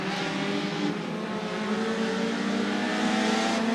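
Race cars on a short track roar steadily as they accelerate at the start of a super short track series race, a dense continuous engine drone with rising revs near the end, no talk.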